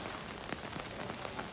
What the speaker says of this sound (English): The city of Kyoto was very rainy on this day